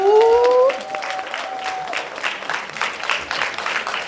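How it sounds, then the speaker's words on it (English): An audience bursts into sustained applause and cheering, with a loud whoop at the start and steady clapping continuing throughout. "Let's make some noise for his mom."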